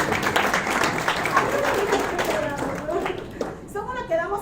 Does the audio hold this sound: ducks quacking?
no